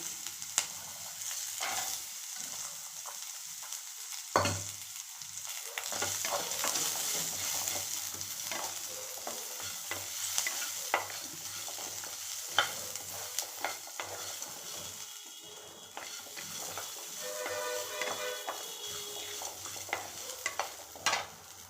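Coconut and cumin lightly roasting in a pan for chickpea masala curry, a soft steady sizzle with occasional spoon scrapes and taps, close but quiet, no voices.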